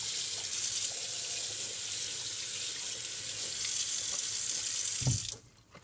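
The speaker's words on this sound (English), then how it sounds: "Now we'll just wash it off with the hot water again." Hot tap water runs steadily into a sink while soccer cleats are rinsed, a constant close hiss that cuts off abruptly near the end, with no talk.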